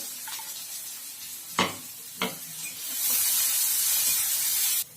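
Garlic and onion frying in a pan, with two sharp stirring scrapes followed by a loud, steady sizzle that swells and then cuts off abruptly.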